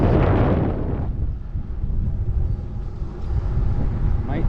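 Headwind buffeting a microphone while cycling a gravel loop, loud rumbling low gusts that surge and ease unevenly, with a brief voice at the start and the end.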